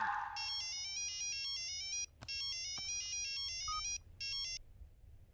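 A telephone rings after a call is placed, sounding a melodic electronic ringtone in repeated bursts with short gaps between. It is clear and steady, with a couple of faint knocks mid-way and no talk.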